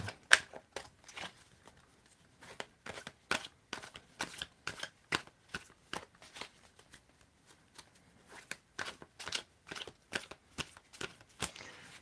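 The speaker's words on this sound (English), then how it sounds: "And Angie, tell me when to stop shuffling." Tarot cards riffled and shuffled by hand in a quiet room, a long series of crisp, papery bursts coming in irregular rhythm, each brief and close, with pauses between them and no talking.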